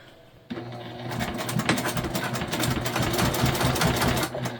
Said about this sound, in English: We're just going to top stitch now.